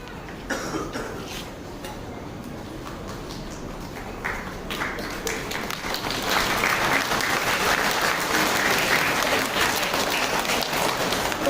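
Audience applause at a school's junior department stage presentation, broad clapping that starts moderate with a few coughs and swells louder and denser through the second half.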